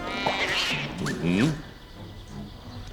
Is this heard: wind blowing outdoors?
no